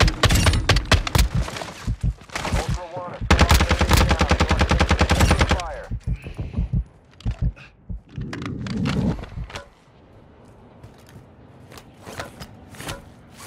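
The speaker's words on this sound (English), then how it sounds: "You are taking effective fire." Call of Duty DMZ firefight with loud, rapid machine-gun bursts and dense volleys of gunshots, broken by short pauses, then fading into quieter ambience near the end.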